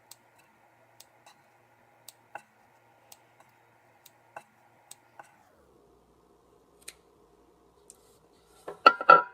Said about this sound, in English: I'm going through, just snipping these off